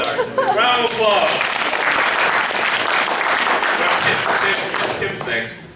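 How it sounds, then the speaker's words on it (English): A crowd at a senior graduation party applauds a graduate, loud dense clapping that holds steady for several seconds and fades at the end, with a voice briefly heard at the start. "let's give Larry a big round of applause."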